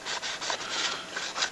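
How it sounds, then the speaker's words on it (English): A cloth rubs a thin film of oil along the barrel of a Ruger SR22 pistol, producing soft, close, rhythmic swishing strokes at a quiet, steady level. "Rub a little bit on the barrel."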